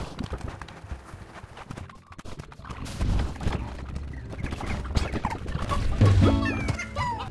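Chickens in the video game Slime Rancher make clucking and gobbling bird calls over busy game sounds and rhythmic clip-clop steps, moderately loud and continuous.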